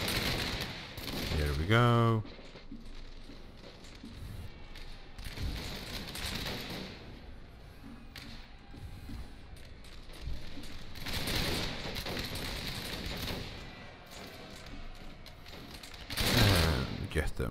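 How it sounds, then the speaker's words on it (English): British troops firing on Prussians in Napoleon Total War: scattered musket volleys crackle and pop in bursts across the battlefield, some near and sharp, others distant, with someone talking over the gunfire. "We just open fire when the Prussians started running in."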